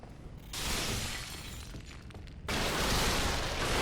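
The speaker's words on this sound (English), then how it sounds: "I have to smash just everything. Everything must be smashed." Breakable objects being smashed in the video game Dark Souls 3, with two loud bursts of shattering and crashing debris, the second louder and sustained, and no voices.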